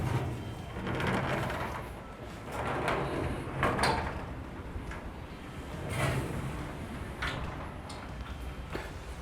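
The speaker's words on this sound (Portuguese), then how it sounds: "Agora eu vou abrir a porta e vou fechar na frente." A glass door swings open and shut, giving a few soft clunks and knocks with muffled sliding noises over a quiet room background, with no one talking.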